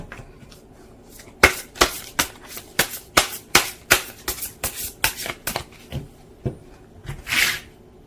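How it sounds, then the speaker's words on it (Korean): Tarot cards are shuffled and then dealt from the deck, giving a run of about a dozen crisp, close snapping riffles in quick irregular rhythm, followed by a softer sliding card draw at the end. "카드를 몇 장 더 뽑아보도록 하겠습니다"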